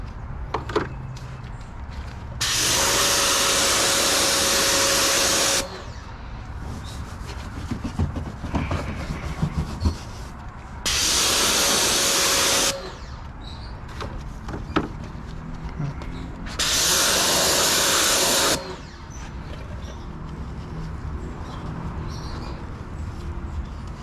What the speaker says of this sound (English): I'm going to just spray some APC in the wheel wells to clean these up